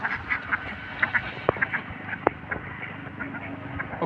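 Ducks on a duck farm quacking in repeated short bursts, several birds calling at close to moderate distance, with occasional sharp knocks among the calls and a low background hum.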